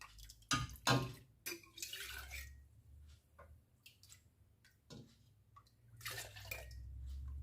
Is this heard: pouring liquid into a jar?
yes